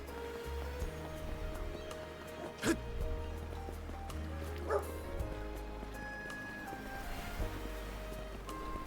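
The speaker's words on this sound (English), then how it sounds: "There's a doggy." A dog in the video game Ys X: Nordics gives a couple of short barks over steady game music and ambient surf, with one sharper yelp near the middle.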